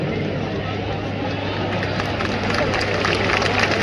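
Spectators at a Govinda human-pyramid event, with a women's team building a five-tier pyramid: a dense, loud wash of crowd noise and applause, continuous and swelling slightly toward the end.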